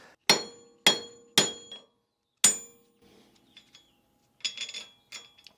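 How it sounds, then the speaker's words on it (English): Four sharp metallic hammer strikes on a Jeep wheel stud ringing close by, followed by softer clinks and rattling of metal parts. "I'll do one demonstration with the hammer"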